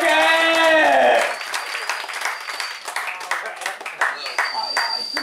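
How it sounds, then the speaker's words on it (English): A comedy show audience claps and applauds in a steady, fairly loud burst after a brief held musical tone, the clapping continuing under a crowd wash. "Let's get a clapping, guys. Put your hands together."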